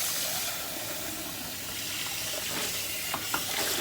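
Cold tap water running over cooked rice in a colander, a steady gushing rinse with a few small clatters near the end.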